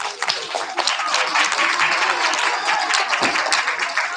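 Warm applause from a school assembly audience for kindergarten and first-grade award winners, dense clapping filling the whole stretch, close and lively.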